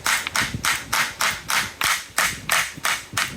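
About ten evenly spaced hammer taps ring out on a Nissan Skyline GT-R transfer case, each one a sharp, close metallic knock, all struck to free the case from its silicone-sealed housing, with no talking.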